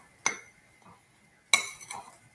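A spoon mixes mug cake ingredients inside a mug, two sharp ceramic clinks a little over a second apart, each followed by a soft scrape, in an otherwise quiet room.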